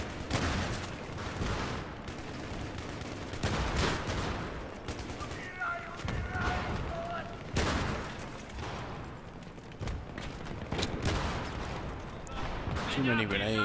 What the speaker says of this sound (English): Too many grenades being thrown up there